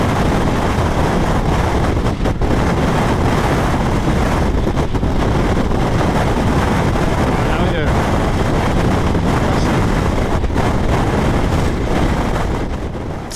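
Strong wind roars constantly across the microphone on a motorcycle trip, a loud buffeting rush filling the whole clip with only faint traces of a voice underneath.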